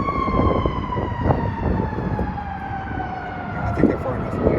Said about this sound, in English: That's that siren they used back in the days,